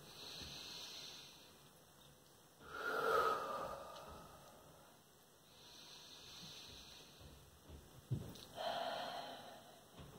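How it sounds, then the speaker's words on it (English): Slow, deep breathing during a calm classroom exercise, with two long audible breaths rising and fading, soft and close in a quiet room. "Let's go ahead and breathe in."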